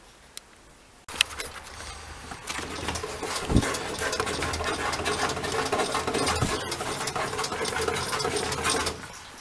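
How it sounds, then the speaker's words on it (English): A hand jiggle pump siphons old gasoline out of a fuel tank, making a steady close rattling, gurgling flow that starts abruptly and runs on with a few sharp knocks. "I got this handy dandy little jiggle pump, which I'm gonna try and use."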